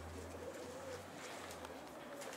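Soft pigeon cooing sits low under a steady background hum, with faint indoor rustle and no clear talk, a sick pigeon found fallen on the ground.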